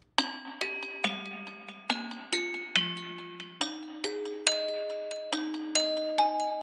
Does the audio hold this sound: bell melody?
yes